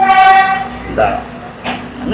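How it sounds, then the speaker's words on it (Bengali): A train pulling into Veyangoda railway station in Gampaha district, Sri Lanka, with a loud horn at the start followed by brief rumbling and clatter, close by. "চলে এসছে আমাদের ট্রেন ভিয়ানগোদা রেলওয়ে স্টেশন"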